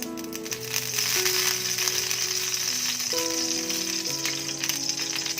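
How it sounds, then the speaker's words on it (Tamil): Oil poured onto a hot tawa for frying raw banana slices gives a steady, close sizzle and crackle, with a soft melodic tone playing underneath. "இப்போ இதில் கொஞ்சம் நம்ம எண்ணெய் விட்டுடலாம்"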